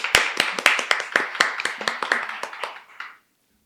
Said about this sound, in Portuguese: Palmas pra Dani de novo,